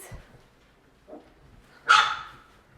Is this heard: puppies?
yes